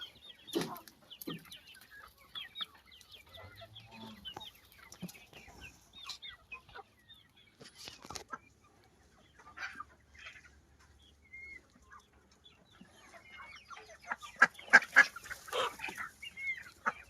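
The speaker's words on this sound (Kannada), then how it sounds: "ಕೋಳಿ ಮತ್ತೆ ಬಾತುಕೋಳಿ ಎಲ್ಲ ತಿಂತಾವ" Chickens cluck softly and sporadically at close range while pecking at feed, joined by honking ducks, busier and louder toward the end.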